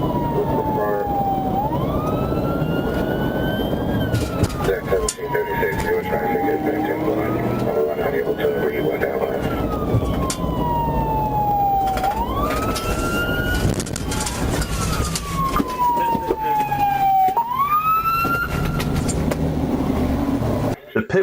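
A police trooper's siren wails loudly in repeated rising-and-falling cycles during a highway pursuit, with engine and road noise underneath and someone talking over it throughout.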